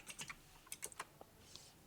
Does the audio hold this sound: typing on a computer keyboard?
yes